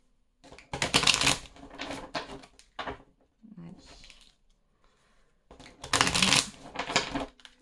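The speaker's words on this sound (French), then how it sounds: "Je vais juste remonter les cartes." Tarot cards shuffled and gathered up by hand, two loud bursts of riffling and rustling near the start and end with softer shuffling and taps between, no voices.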